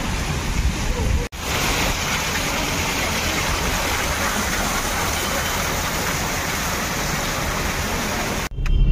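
Rain falling in Agra after an afternoon-long shower, now easing: a dense, steady hiss of rainfall that stays constant almost throughout, broken only by two brief cuts.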